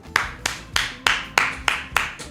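Seven sharp hand claps in an even, steady rhythm, close and clear with no talking, applauding a departing player in a football management game.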